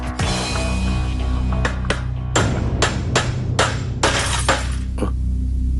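Sharp metallic strikes ring out one after another, loud and close, each with a bright clanging ring as a hammer drives a large chisel into a safe's lock.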